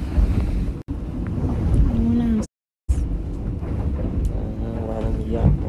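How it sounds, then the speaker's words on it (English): A yacht cruises on the sea off Cabo, Mexico, with steady wind and water rush close to the microphone, broken by a brief dropout. "wanna ride on the yacht. Come on, let's start."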